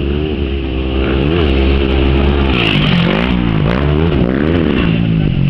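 Motorcycle racing past on the San Pedro circuit, its engine loud and near, revving up and down in repeated rising and falling sweeps, with no talk.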